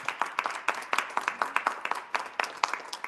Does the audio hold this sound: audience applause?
yes